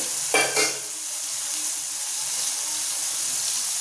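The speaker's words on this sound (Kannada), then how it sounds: "ಈ ಕ್ಯಾಪ್ಸಿಕಮ್ ಮತ್ತು ಕಾರ್ನ್ ರೈಸ್ಗೆ ಎಲ್ಲದನ್ನೂ ಒಂದ್ಸಲ ಕೈಯಾಡಬೇಕಾಗುತ್ತೆ ಪದೇ ಪದೇ" Capsicum and corn rice being stirred in a hot pan, with a brief spoon scrape near the start over a steady soft sizzle and hiss that carries on alone.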